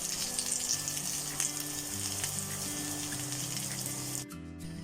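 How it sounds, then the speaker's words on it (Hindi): Potato cutlets coated in rice flour batter fry in hot oil, sizzling and crackling steadily up close before cutting off near the end. "मैं अब इसमें जिसमें हमने चावल का आटा बैटर के अंदर ऐड किया था उसको फ्राई करने लगी हूँ"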